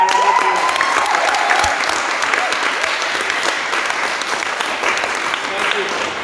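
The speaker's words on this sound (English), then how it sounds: "Can we just give yourself a round of applause?" Sustained applause from an audience at a leadership training institute session fills the room at steady strength, with a few voices mixed into the dense clapping.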